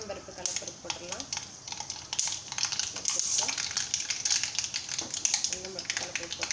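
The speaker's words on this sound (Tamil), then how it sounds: "எண்ணெய் காஞ்சிருச்சு, கடுகு போட்டுடலாம்." Mustard seeds crackle and pop in hot oil as a dense, continuous sputtering while kolukattai is being prepared, with a voice speaking over it.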